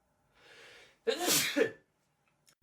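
A single sharp human sneeze, loud and close, preceded by a soft breathy intake and followed by silence.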